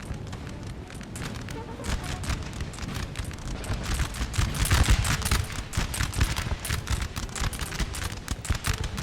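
Crackling volleys of musket fire aimed at a building in Napoleon Total War, dense and continuous with overlapping shots throughout, loud and busy with the roar of battle behind them.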